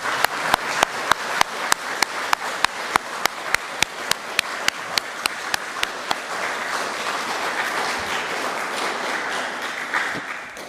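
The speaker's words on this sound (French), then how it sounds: "je pense qu'on peut les applaudir à la fois" A church congregation at a Sunday service with organ and a visiting brass choir applauds, starting in sharp, evenly spaced rhythmic claps that loosen into a softer, scattered patter before fading.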